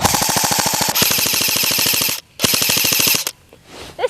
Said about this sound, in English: Can I carve it with my new gun from Evike?